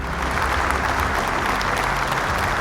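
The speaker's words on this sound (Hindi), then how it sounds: "जोरदार तालियों से स्वागत कीजिए" Audience applause greeting a couple competing as a family team in a Bible quiz semi-final, a dense, steady clapping that holds at full strength throughout with no talk over it.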